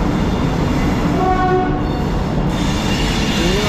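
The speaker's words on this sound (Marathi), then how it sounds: "WAG9 ट्रेनचा इंजिनचं नाव आहे आणि फुल स्पीडला असते आहे बघा. त्याचा आवाज बघू शकता." A train hauled by a WAG9 locomotive races past at full speed, loud and steady, with a grinding roar of wheels and a brief squeal partway through.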